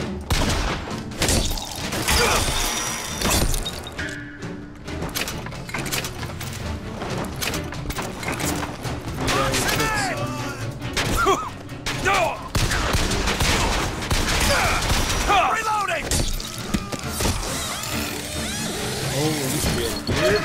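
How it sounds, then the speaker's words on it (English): Bursts of rapid gunfire from the video game BioShock Infinite crackle in loud, repeated volleys with thuds and mechanical clanks between them, while a voice talks over the action. "You're dead. Stop shooting!"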